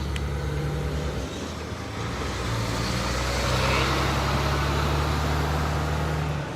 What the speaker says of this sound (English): another big truck coming